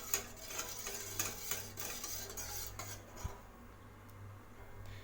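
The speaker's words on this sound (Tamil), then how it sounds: "இப்போ இதை நல்லா கலந்து விட்டுக்கலாம்" Masala tea ingredients are stirred together in a pot, giving quiet metallic clinks and scrapes of a spoon against the pan in an irregular rhythm over a soft background hum.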